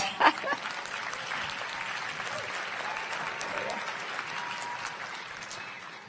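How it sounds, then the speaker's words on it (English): A large crowd at a university graduation ceremony applauds nursing school graduates, a steady wash of clapping that holds evenly throughout, with a brief louder burst at the start. "They deserve some applause."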